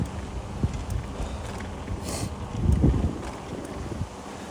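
Wind buffeting the microphone while riding a bicycle across the Gil Hodges bridge on the Jamaica Bay loop in New York City: a steady low rumble with gusty swells, strongest near the middle, and no talking.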